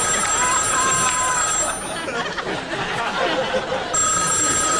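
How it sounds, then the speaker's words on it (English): A telephone bell rings repeatedly in close, clear bursts, pausing briefly in the middle before ringing again, with faint background chatter. "The phone rings again."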